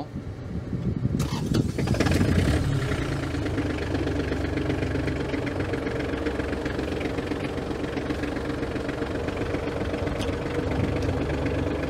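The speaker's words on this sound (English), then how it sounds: "Yeah, I get to start the engine." The diesel engine of an ISEKI TG25F used Japanese tractor cranks and catches, then settles into a steady, close, knocking idle that runs on for several seconds.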